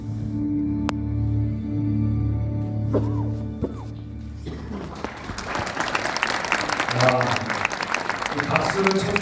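A church audience at a new-family night bursts into dense applause partway through, following a stretch of sustained tones and background noise, with the clapping continuing loud and close to the end.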